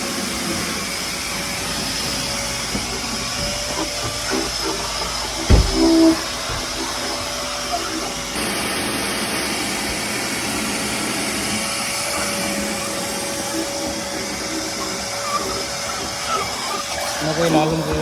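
A pressure washer sprays down a car engine during an engine wash, giving a steady loud hiss and roar that runs throughout, with a short thump partway through and the spray tone shifting midway.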